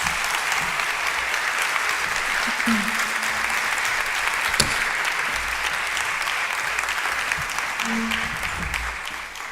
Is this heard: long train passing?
no